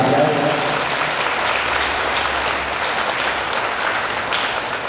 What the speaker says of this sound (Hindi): उनका भी जोरदार तालियों से स्वागत